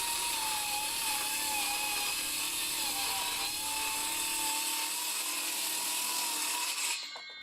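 A Ridgid Gen5X brushed cordless 7-1/4" circular saw cuts through four stacked pieces of OSB, a loud steady whine with a grinding bite held for several seconds before the blade spins down near the end, no talking.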